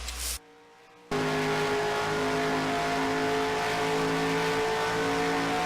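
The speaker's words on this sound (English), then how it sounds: "he's definitely clutching through the corners. I can hear it" A race truck engine in a Breast Cancer Awareness 200 race, driven with the clutch worked through the corners, giving a steady loud droning roar with strong harmonic tones after a brief drop to near silence.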